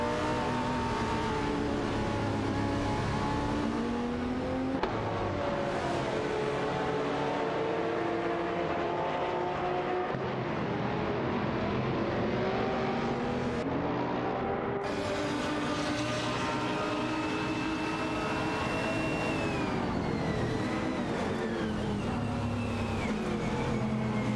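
GT race cars in a racing video game, a Cupra GT and a Lamborghini Gallardo GT3 among them, with engines droning and whining loudly and shifting pitch as they accelerate and gear-change continuously.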